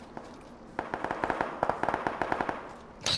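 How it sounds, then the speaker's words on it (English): Gunfire in the battle-royale game PUBG crackles as a rapid burst of sharp, evenly spaced shots, fairly faint and distant-sounding, followed by a louder brief noise at the end. "Those shots did not sound like they're coming from that direction."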